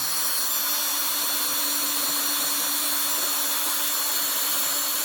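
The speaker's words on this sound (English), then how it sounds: "we're just filing off the rust particles that's built up through the years" Steady close grinding hiss of a power tool working rust off the rear brake parts of a Renault, a continuous abrasive whir without pauses and without talk.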